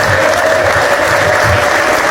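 A church congregation breaks into loud, dense applause that fills the space without a break, many hands clapping at once close by, with no single voice standing out.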